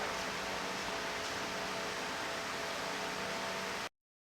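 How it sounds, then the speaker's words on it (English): Steady broadband whoosh of a fan running in a hot garage during work on an XT Falcon, constant and even throughout, no voices, cutting off abruptly at the end. "sorry about the fan noise again"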